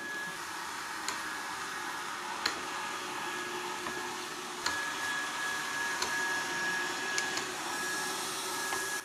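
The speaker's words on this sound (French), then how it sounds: "Vous pouvez démarrer avec l'application ou en appuyant à ce niveau-là. Démarrage de l'aspiration." A Yeedi Mop Station robot vacuum cleaner running on a floor gives a steady, close whirring drone with a faint high whine, plus occasional small ticks and clicks throughout.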